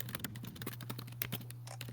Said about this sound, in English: Very nice typing in the background.